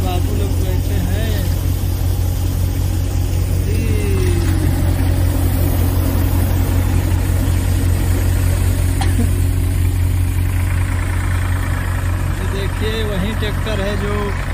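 A tractor-powered paddy rice thresher runs at a farm while grain is fed in, its engine giving a steady, loud, continuous mechanical drone with a low hum and rattling throughout, under occasional background voices.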